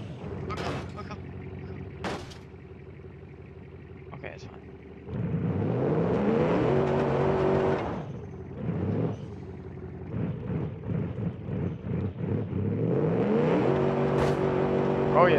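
An off-road car built in Automation, towing a trailer on a dirt track, revs hard with its wheels spinning. The engine roars in long loud surges and drops back between them, while a person talks over it.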